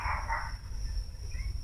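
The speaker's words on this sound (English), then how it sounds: "Please shut up, dog." A dog barks somewhere in the surroundings, a short burst of barking at the start that fades under steady low background rumble.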